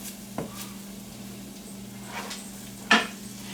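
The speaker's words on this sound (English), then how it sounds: "Get our spoon here. Stir this all up." A spoon stirs shrimp risotto with shrimp juices and onions in a pot, giving a soft sizzle and a few scraping clinks against the metal, one sharper knock near the end.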